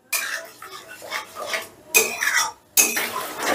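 Spice paste with yogurt is stirred and fried over raised gas heat, with loud metal spatula scrapes and clatters against the pan coming in bursts with short pauses between them.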